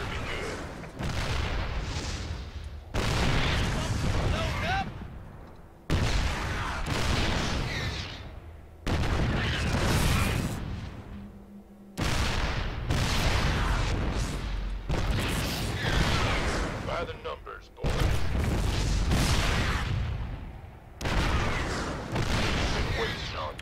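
Siege tanks in StarCraft 2 pound at Protoss cannons from range, with a series of heavy booming blasts arriving in separate bursts every few seconds, each decaying before the next, while a voice talks over them.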